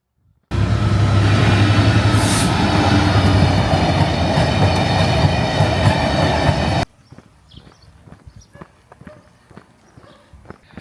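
A long train rolls past close by, a loud, steady roar of rumbling wheels and rhythmic clatter that cuts off abruptly, leaving faint outdoor ambience with scattered footsteps and light knocks.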